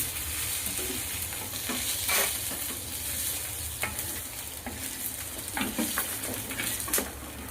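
Chicken masala with blackened roasted onion being stirred in a frying pan, a soft continuous sizzle broken by repeated scraping strokes of a utensil against the pan, close up with no talking.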